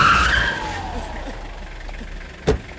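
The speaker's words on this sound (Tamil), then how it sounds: "வண்டி இப்படி வர நிறுத்து." A car braking hard to a stop, with a loud tire skid at the start that fades as the vehicle slows, then a sharp thump near the end.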